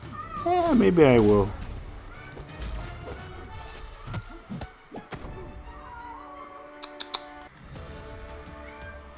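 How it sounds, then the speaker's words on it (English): A half Maine Coon cat meows in a rising, wavering cry up close, heard once early and then fading, followed by scattered thumps, game sounds and a person speaking briefly. "That's our cat. It's a half"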